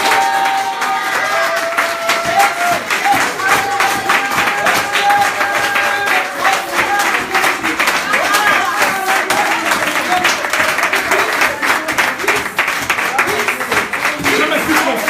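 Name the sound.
congregation cheering and applauding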